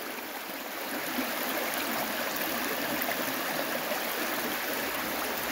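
A river flows steadily with an even, broadband rushing hiss that holds constant throughout, mid-level and close, with no voices.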